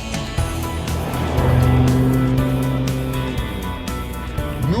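A BMW M2 compact sports car drives close by with a loud, steady engine roar that swells in pitch mid-clip, eases off, then picks up again at the end.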